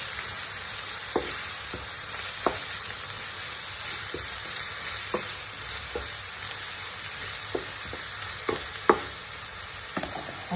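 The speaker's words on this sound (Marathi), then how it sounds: "आपण आता कांद्याची पात तेलात परतून घेऊया।" Spring onion greens fry in hot oil with a steady close sizzle, broken by occasional soft clicks of a spoon stirring the pan.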